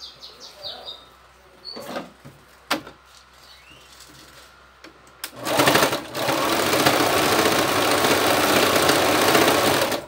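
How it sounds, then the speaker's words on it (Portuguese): A sewing machine stitches a fabric turban, starting after scattered quiet handling noises and then running as a steady, close, continuous whirring hum for the remaining seconds. "E vou costurar."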